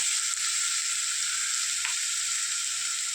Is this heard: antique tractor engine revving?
no